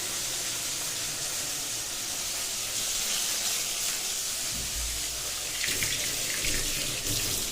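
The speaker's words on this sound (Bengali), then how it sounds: "তো এখন এটাকে ভাজতে দিলাম তেলের মধ্যে" Food frying in oil in a home kitchen, a steady loud hiss and crackle of sizzling that runs continuously throughout with no speech over it.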